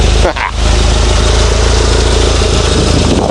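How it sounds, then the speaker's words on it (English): A steady, loud engine idles continuously with a low, even rumble after a brief dip at the start. "it's idling on its own. It's sounding pretty decent."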